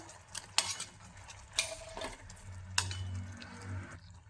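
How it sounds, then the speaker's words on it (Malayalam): A spoon scrapes and stirs a pan of sweet unnimadhuram after a quarter spoon of cardamom powder goes in, giving several sharp metallic scrapes and clinks at an uneven pace, fairly close, with a soft low hum beneath and no talk. "ഇതിലേക്ക് 1/4 സ്പൂൺ ഏലക്കാപ്പൊടി ഇട്ട് കൊടുക്കാം. ഇട്ടൊന്ന് ഇളക്കി കൊടുക്കാം."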